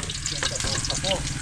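Garlic, ginger and onion sizzle steadily in hot oil in a pan, with occasional stirring scrapes, and no talk over the continuous frying crackle.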